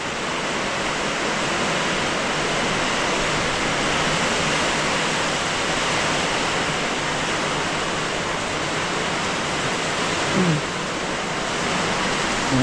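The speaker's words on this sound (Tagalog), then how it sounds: "Pumasok na yung tubig, guys." Floodwater is pouring into a small hut during a typhoon, a continuous loud rushing wash of water and rain-like noise, steady and close throughout with no pause.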